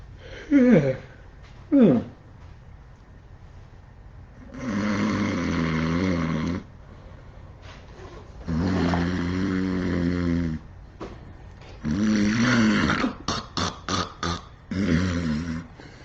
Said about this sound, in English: And then an enormous snore! The snore got louder